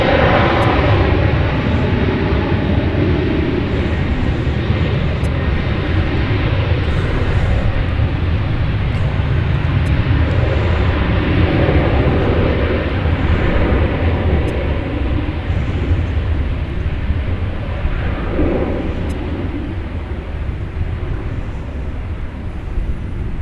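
An airliner departing DFW Airport on flight 3053 to Roatan gives a loud, sustained jet engine roar that holds steady throughout with no talk.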